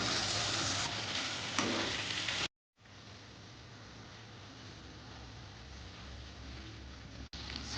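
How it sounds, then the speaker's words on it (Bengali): Fried pointed gourd pieces land in a spice paste of chopped tomato that has released its oil, giving a loud, close sizzle that cuts off briefly and then settles into a steady hiss, with no talk. "এবারে ভেজে রাখা পটল দিয়ে দিলাম।"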